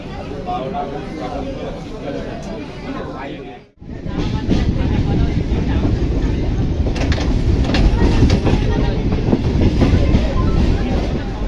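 A train rolls into Howrah station with a loud, steady rumble and rail clatter that briefly dips before continuing under a murmur of voices and ambient noise.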